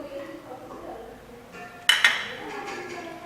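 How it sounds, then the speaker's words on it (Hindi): A spoon clinks a couple of times against a bowl while mixing a homemade facial pack with turmeric, two sharp knocks amid soft stirring, as someone talks nearby. "मैं इसको अच्छे तरीके से मिक्स कर लूँगी।"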